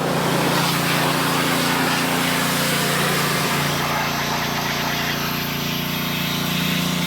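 Water sprays hard onto an off-road 6x6 vehicle as it is washed down, a dense continuous hiss with an engine-like drone beneath, close and loud with no talking.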